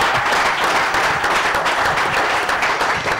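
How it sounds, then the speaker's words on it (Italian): Studio audience applause on an Italian football talk show, a steady wash of clapping from many hands, fairly loud and continuous throughout the short stretch. "dai, diciamo, un applauso a questo."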